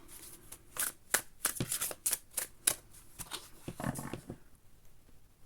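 Rapid papery riffling of a deck of cards being shuffled, a burst of crisp flutters that trails off into quieter shuffling, heard alone and close.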